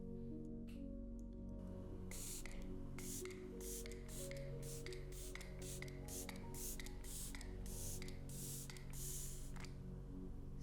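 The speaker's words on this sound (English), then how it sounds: "spritz the skin with some Elizabeth Arden 8-hour serum" Repeated quick spritzes of Elizabeth Arden 8-hour serum mist onto skin, a run of soft, short sprays at a close, faint level over a quiet background hum.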